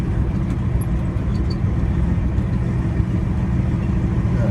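A truck engine idles in a staging lot while parking, a steady low rumble with no pauses, close and constant, with no talk over it.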